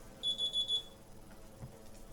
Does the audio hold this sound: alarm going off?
yes